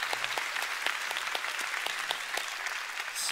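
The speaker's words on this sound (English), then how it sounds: "Give the Lord a big clap." Congregation at a church service clapping together, steady dense applause throughout without speech.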